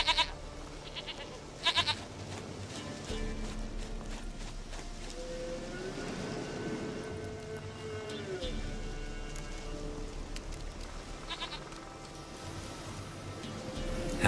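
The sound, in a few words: goat bleating in the video game The Witcher 3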